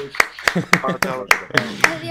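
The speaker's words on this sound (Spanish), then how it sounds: "con este fuerte aplauso despedimos a Raúl" A run of about seven sharp hand claps at a steady, even rhythm, with someone talking between and under them.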